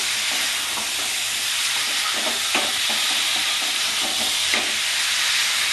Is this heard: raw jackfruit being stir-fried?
yes